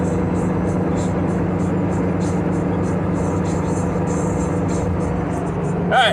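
A car cruising at highway speed in traffic, giving a steady, loud road and engine drone with wind noise that holds evenly throughout and rises slightly near the end.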